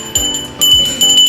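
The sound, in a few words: notification bell sound effect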